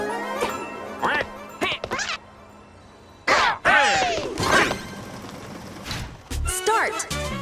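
Cartoonish duck quacks from Super Mario Party Jamboree burst out in several short, loud calls amid game effects, whooshes and thwacks, with excited voices talking over them.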